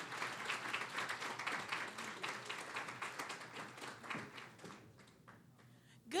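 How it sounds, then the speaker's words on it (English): Applause fills a meeting room at a community partnership breakfast as a speaker walks up, steady clapping from many hands that thins and fades near the end. "Clap your hands for Lucretia Kindred as she comes."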